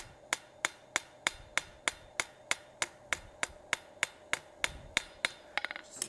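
Hammer blows ring out on steel tips held over an anvil during hand forging of a toilet paper holder: about seventeen sharp, evenly spaced strikes, close and loud, closing with a quick flurry of lighter taps.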